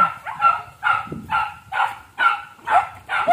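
Repeated dog barks on a farm, roughly seven in a steady rhythm, loud and close, with no talking over them.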